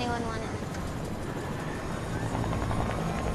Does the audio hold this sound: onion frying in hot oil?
no